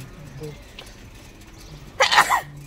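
A single sharp sneeze bursts out close by near the end, following a short stretch of quiet with faint background sound.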